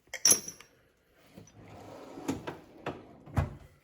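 A drawer in a small engine repair toolbox slides open with a sharp metallic clack, followed by rattling rolling sounds and a few more distinct knocks as the drawer settles, close and alone.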